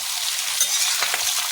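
Okra frying in a pan with onion, giving a steady, close hiss and sizzle with light crackling throughout.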